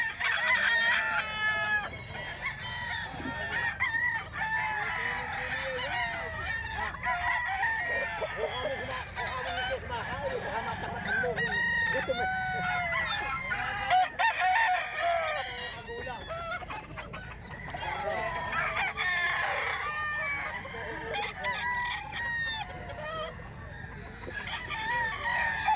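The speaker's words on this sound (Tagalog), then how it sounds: "Manok ni Boss Steve." Boss Steve's chickens crow and cluck constantly at close range, roosters overlapping in a busy, unbroken din, with a voice faintly underneath.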